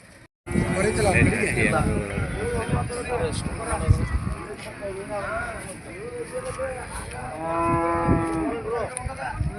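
Cattle and buffalo at the Gadag livestock market moo repeatedly, with long drawn-out calls near and far amid a crowd of voices and general market bustle.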